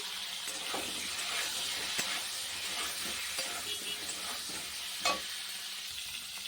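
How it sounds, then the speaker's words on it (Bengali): Cauliflower frying in hot oil in a wok with salt and turmeric, a steady close sizzle and hiss with occasional stirring clicks and scrapes, no speech over it. "এইরকম ভাজা হচ্ছে, আরও ভাজা হবে।"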